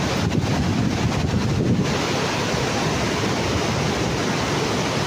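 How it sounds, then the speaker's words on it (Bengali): Steady, loud wind roars and buffets continuously at Vazhachal Waterfalls, Kerala, a dense rushing noise with no voices, broken only briefly by a slight shift early on. "হ্যাঁ কি সুন্দর ঠান্ডা হাওয়া দিচ্ছে"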